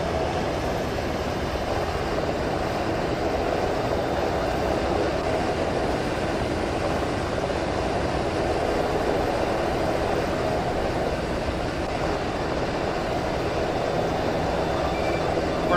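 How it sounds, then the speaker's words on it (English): A military helicopter in the video game Arma gives off a loud, steady rotor and engine roar that continues without a break for the whole stretch, with no talk over it. "All right, second helicopter's here."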